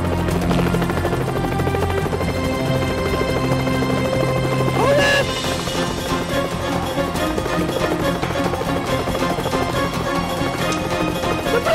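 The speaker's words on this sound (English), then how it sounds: "Did you send a helicopter?" A helicopter flies close overhead in an action film scene, its loud, steady rotor thrum and engine whine continuous throughout with no voices over it.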